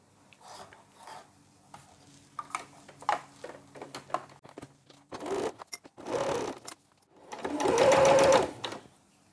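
A sewing machine stitches a bra cup in bursts, with soft fabric rustling and handling between runs and a long, loud final stretch of steady stitching.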